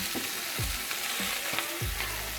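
Salt and garlic granules sizzling in a pan over medium-high heat, a steady fry with several soft stirring scrapes recurring through the clip, close and moderately loud.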